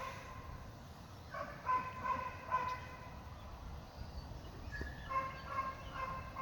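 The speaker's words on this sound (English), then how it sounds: "why is this dog still barking?" A dog barks and howls in bursts somewhere along an outdoor hiking trail, a few calls clustered then a pause and more, moderately distant over steady background noise.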